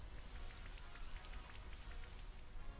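Rain falls steadily from the Rain Dance move in Pokemon Sword/Shield, a soft continuous patter of drops on a surface, even and moderately quiet, with no voices.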